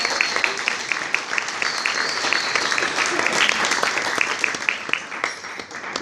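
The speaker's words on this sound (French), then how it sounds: "Plus beaux applaudissements." Dense applause from an audience fills a ceremony hall for the Harmonie de Branges Clé d'Or event, with steady sharp clapping sustained for about six seconds and a murmur of voices under it.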